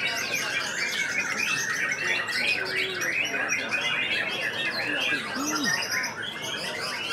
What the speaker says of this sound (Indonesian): Burung banyak yang kerja gitu.